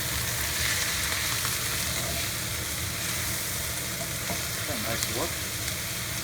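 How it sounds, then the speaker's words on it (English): Tofu with garlic chili sizzles loudly in a hot pan, a dense continuous frying hiss with stirring scrapes heard up close, and a brief voice speaks over it. "I'm just going to stir it around a little bit with the garlic chili."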